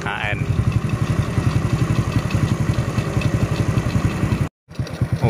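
A motorcycle engine fitted with an RKN piston runs close and loud with a rapid, even pulsing beat. It cuts out abruptly near the end, then picks up again.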